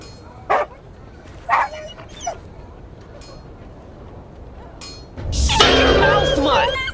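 A dog in The Inquisitor video game lets out a few short barks and yips spaced apart, followed by a louder, longer burst of growling and snarling near the end, with no talk over it.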